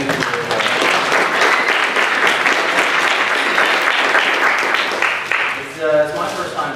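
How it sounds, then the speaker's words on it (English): A workshop audience breaks into sustained, loud applause, dense clapping filling the room for several seconds before thinning out briefly near the end. "I think you guys should keep clapping for Tal"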